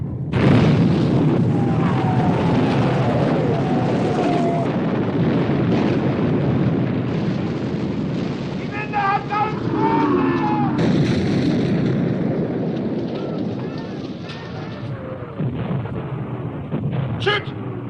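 Heavy naval gunfire from battleship guns in a 1960 war film about the sinking of the Bismarck, a dense continuous roar of booms and blasts with whistling shells and a chaotic battle din throughout.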